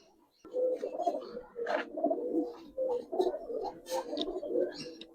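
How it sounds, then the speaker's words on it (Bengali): Pankhi-line pigeons cooing close by, a run of soft repeated throaty coos with brief pauses between phrases, fairly quiet and with no talk over them. "পাঙ্কি লাইনের কবুতর এটা।"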